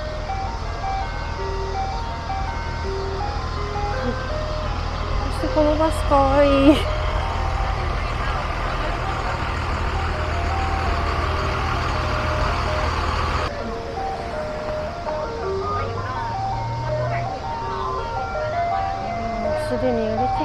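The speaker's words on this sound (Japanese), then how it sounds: "なんかこの音がさっきからずっと聞こえてんだけど、なんだろう、アイスクリーム屋さんかな。" An ice cream truck's tinkling jingle plays on a street, a looping melody carrying steadily over traffic rumble and a passing vehicle, with someone speaking over it.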